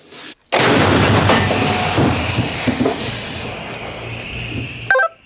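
A single loud self-propelled artillery gun blast booms after a brief silence, heard from inside the vehicle, then a long hissing, rumbling decay fades over several seconds.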